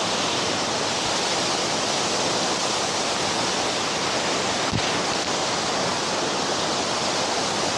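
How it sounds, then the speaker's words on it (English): A waterfall with plenty of flowing water roars in a steady, dense broadband rush, close and continuous, with no talk over it. "Definitely beautiful falls. Plenty of water flow."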